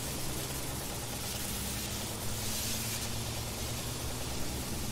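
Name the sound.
fire hose spraying water on a garage fire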